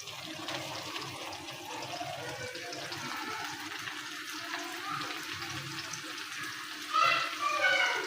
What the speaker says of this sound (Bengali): সবজিগুলো ভাজি করতেছি।